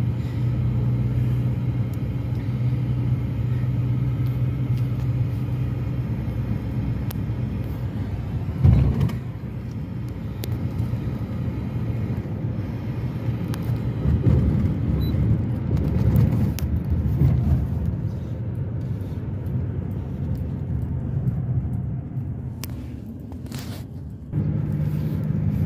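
A car driving along a road in Saudi Arabia makes a steady, loud low rumble and engine drone, heard close as if from inside the vehicle. The drone swells slightly at times, and an occasional thump cuts through.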